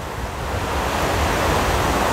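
Park waterfall beside ponds, a steady, loud rushing wash of falling water filling the whole moment with no other sounds.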